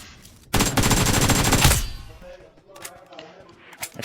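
Loud burst of rapid gunfire from a firefight in the battle royale game BGMI, a dense volley lasting about a second, then fading into quieter scattered shots and game noise.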